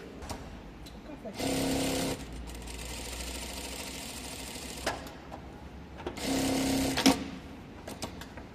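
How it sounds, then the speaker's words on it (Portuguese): An industrial sewing machine runs in two short bursts, stitching and then backtacking, each under a second long. The motor whirs close and clear, with quieter talk and room noise between the bursts. "Aí depois ele vai costurar mais 9 e dar retrocesso em 3."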